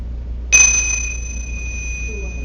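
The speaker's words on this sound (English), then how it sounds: "And with the sound of the bell, we switch." A single bell rung during a meditation session, struck once and sharply, then holding a clear steady ring that fades very slowly over a quiet room.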